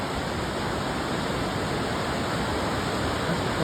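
A high-running river rushes steadily nearby, a dense unbroken roar of flowing water that stays even in loudness throughout with no voices.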